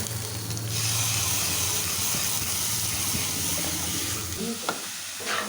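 Chopped tomato goes into a hot pan for chicken patiala and sizzles loudly and steadily, with stirring scrapes and a few clinks near the end.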